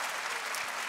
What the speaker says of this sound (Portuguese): Uma salva de palmas para isto, por favor